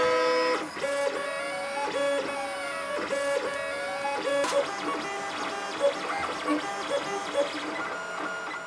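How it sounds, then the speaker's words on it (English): 3D printer printing plastic parts for an Alien Xenomorph cosplay shoulder brace and head. Its stepper motors whine in changing tones, with rising and falling sweeps and short clicks, running continuously and fairly close. "So what I was printing there was in fact these things in two halves."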